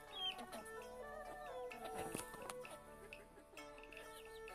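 Faint, high clucks and peeps come from small chicks on a farm that keeps a Barred Rock-type chick and Silkies. They are soft and somewhat distant under a steady background with other tonal sounds.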